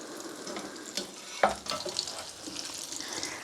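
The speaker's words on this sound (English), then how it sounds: "if you're shallow frying, just give them a flip" Homemade hash browns shallow frying in a pan give a steady, close sizzle and crackle. Midway comes a sharp metal clank as a spatula flips them.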